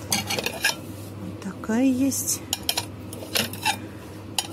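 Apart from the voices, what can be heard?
ceramic plates and dishes being handled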